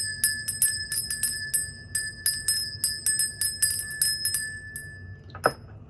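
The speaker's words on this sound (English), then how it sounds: "I'm going to start off by ringing the bell." A small bell rings repeatedly in quick, uneven strikes, bright and sustained tones overlapping, with a soft thud near the end.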